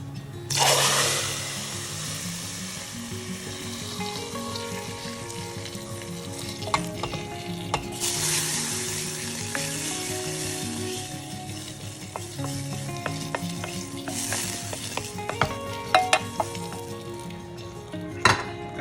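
Tadka seasoning poured into a pot of sambar, with bursts of loud hissing sizzle followed by metal spoon clinks and scraping against the pan, the sizzle flaring up again several times.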